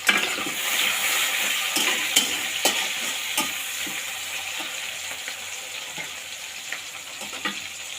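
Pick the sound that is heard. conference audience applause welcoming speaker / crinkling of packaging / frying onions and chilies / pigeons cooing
frying onions and chilies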